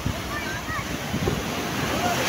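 Strong ocean waves wash onto the shore at Lian, Batangas, a continuous loud broadband roar of surf mixed with wind buffeting the microphone.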